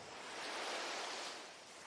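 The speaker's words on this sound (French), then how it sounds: "Et tu entends le bruit des vagues." Ocean waves on a beach, one soft surging wash that swells and recedes, steady and distant-sounding with no other sounds.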